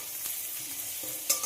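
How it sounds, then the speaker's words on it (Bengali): Grated garlic frying in a pan gives a steady, soft sizzle while it is briefly stirred, with a small clink near the end. The sound is close and fairly quiet, and no one speaks. "যতক্ষণে রসুনের কাঁচা গন্ধটা না যায় ততক্ষণ একটু ভেজে নিতে হবে"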